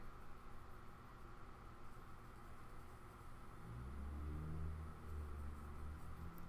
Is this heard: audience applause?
no